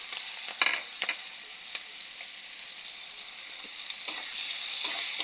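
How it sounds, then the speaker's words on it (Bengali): Onions frying in a pan for a home-cooked dhekishak (fiddlehead fern greens) dish, a steady high sizzle with a few sharp spatula scrapes and ticks over about five seconds, no talking. "এখন দিয়ে দিলাম আমি পেঁয়াজ"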